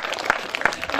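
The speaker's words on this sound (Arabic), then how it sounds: "صفقوا عليهم" Brief clapping for schoolchildren at a school event, a few loud separate claps over a noisy room background.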